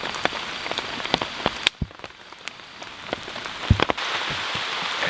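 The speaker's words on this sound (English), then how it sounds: "And there's the rain that we were talking about" Rain patters steadily on a shelter built outdoors, a soft continuous hiss punctuated by sharp, close drips and taps at irregular intervals.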